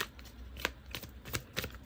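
Tarot cards being shuffled by hand in quiet repeated bursts, crisp riffling flicks and snaps at irregular intervals, close and fairly soft, with no voices.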